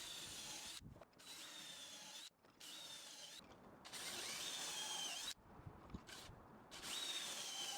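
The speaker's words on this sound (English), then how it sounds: "we drilled pocket holes on all the stretchers" A power drill with a pocket-hole jig boring into cedar stretchers, several short whirring bursts separated by brief pauses, quiet and steady with no talk.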